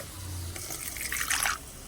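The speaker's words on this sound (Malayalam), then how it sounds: "നമ്മൾ വീണ്ടും കുറച്ച് വെള്ളം ഒഴിച്ചു കൊടുത്തിട്ടുണ്ട്" Water is poured into a curry simmering in a pan, a short close splashing pour that swells then cuts off.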